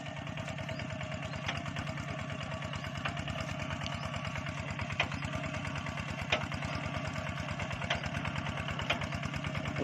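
A walk-behind tractor engine churns through a muddy rice paddy, a steady close mid-pitched putter with fast regular firing pulses and faint clatter, running alone throughout without speech.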